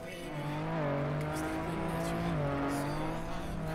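A new car in the TrackMania racing game roars loudly and steadily, its engine whine rising and falling with speed and gear changes, continuous and close throughout.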